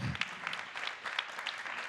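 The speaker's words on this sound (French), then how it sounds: "On peut vous applaudir." Brief, light applause from an audience for participants at the close of a debate session, with individual claps audible and a faint murmur of voices underneath.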